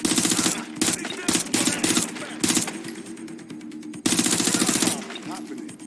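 Rapid bursts of automatic gunfire in the video game Watch Dogs: Legion, loud and repeated in clusters with brief gaps, with someone talking over parts of the shooting.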